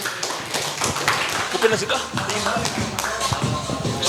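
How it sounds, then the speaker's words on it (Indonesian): Audience applause in an indoor talk-show studio for a guest, dense patter of clapping under speech and shuffling noise, moderately loud and continuous. "Beri tepuk tangan yang meriah buat Bang Andri"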